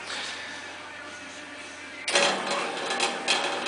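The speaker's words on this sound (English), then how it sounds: "Motor seems to be good speed" A small electric motor drives the chute control on a Bolens G174 snow thrower, a quiet steady whir that jumps louder partway through with a buzzing mechanical hum and slight pulsing.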